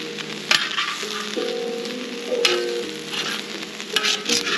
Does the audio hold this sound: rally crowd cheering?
no